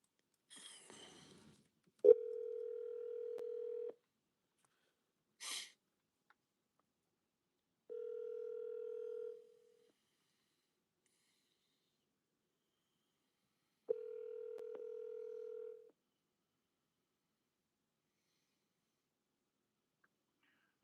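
An outgoing phone call placed through a smart speaker rings back three times in long steady tones separated by silence, with a short electronic chirp before it and a brief click between rings.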